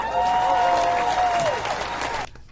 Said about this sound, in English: You cut short her clap.